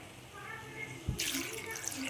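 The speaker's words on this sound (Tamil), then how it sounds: "இதில் வாட்டர் ஆட் பண்ணிக்கோங்க." Water pours into a kadai holding cut drumstick pieces, starting with a soft knock and then a steady, fairly faint splashing rush over low background noise.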